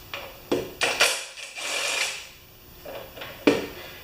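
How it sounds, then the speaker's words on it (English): Metallic clicks and scraping from a puller tool working on a Honda carburettor part, a few sharp ratchet-like snaps and a longer grinding scrape, close and fairly quiet, no talking. "We're going to use my magic taker off puller tool."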